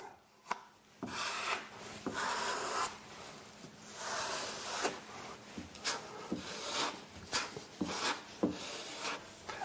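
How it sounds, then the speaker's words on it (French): Pink color-changing filler being spread over joint tape on a wall, a steady rasping scrape of the blade repeating in long strokes with short pauses, close and alone. "je vais d'abord passer une couche d'enduit pour réaliser sur le ruban"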